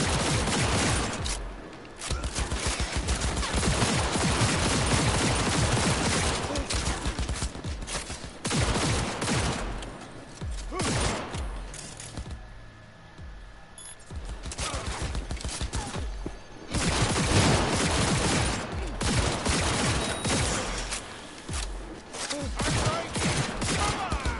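Gunfire while shooting an enemy in Cyberpunk 2077, long sustained bursts of loud automatic fire broken by short pauses, dense and close throughout, with no talking.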